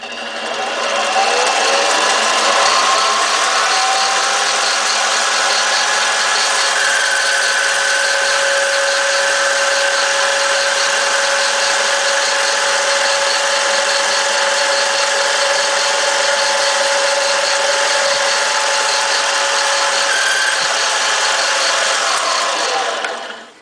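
Lathe facing the end of a half-inch fountain pen section blank, a steady machine whine with a sustained cutting tone that runs unbroken for over twenty seconds.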